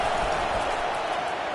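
Stadium crowd noise in a college football video game, CFB 25, a steady, loud roar of cheering that fills the whole moment without pause and with no other sound standing out.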